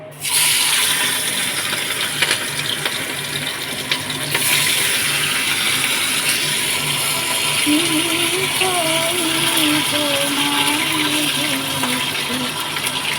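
Pieces of hilsa fish sizzle in hot mustard oil, a loud, steady crackling hiss that runs close and unbroken, with a faint voice murmuring under it toward the end.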